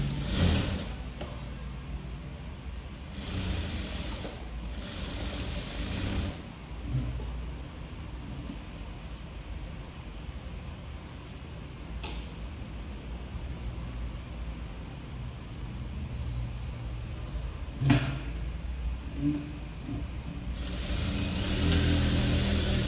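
A sewing machine runs steadily while stitching a close-neck blouse with thread piping, its motor a continuous mid-level whir with a few brief pauses and restarts, heard alone without talk.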